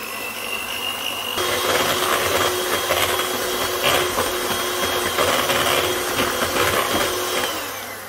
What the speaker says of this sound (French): Allez, on va fouetter. Juste pour épaissir le mélange